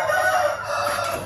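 Two pet chickens in a backyard pet house squawking and clucking noisily, a close, loud, continuous burst of fowl calls.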